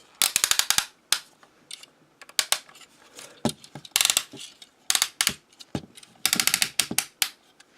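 Plastic ratchet joints on the legs of an MMC Magna R35 Skylynx stand clicking in quick bursts of sharp clicks separated by short pauses, close and loud, with no talk.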